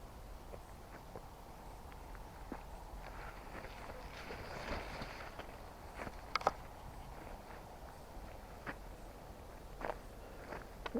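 Soft footsteps crunch and swish at an irregular pace through grass, faint and close, over a steady low outdoor rumble with occasional sharper rustles.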